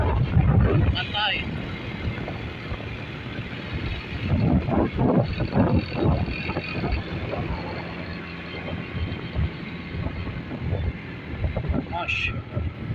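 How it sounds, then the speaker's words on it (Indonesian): Strong wind buffets the microphone on a beach at Pantai Clara in Lampung, a loud steady roar with gusty bursts and rumble throughout, and a person talks at moments in the foreground. "angin kencang pantai."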